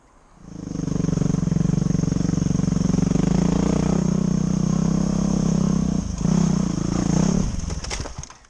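A dirt bike engine revs hard in first gear, a loud, sustained roar close by that holds steady for several seconds, dips briefly, then surges again before trailing off.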